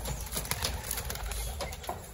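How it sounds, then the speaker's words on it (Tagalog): Pigeons taking flight from a rooftop coop, a steady flurry of flapping wings mixed with soft cooing, close and continuous throughout. "Yan, naglilipadan niya yung mga kalapati niya."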